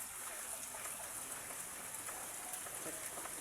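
Steady rain patters and hisses on a surface where pigeons are gathered, a dense, even wash of drops with no voices.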